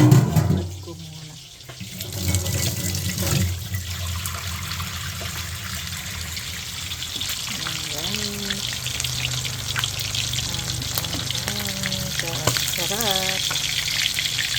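Food being washed under a running kitchen sink tap, a continuous splashing water stream with faint clinks, while a voice talks intermittently in the room.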